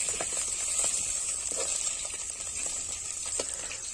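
Fish frying in oil on high heat for a Chhattisgarhi fish khatta saag, a close, steady hissing sizzle with faint crackles throughout.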